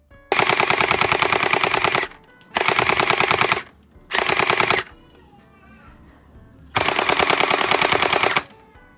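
A gel blaster rapidly firing Orbeez gel balls in four long, dense automatic bursts of fast ticking shots, close and loud, separated by short quiet gaps.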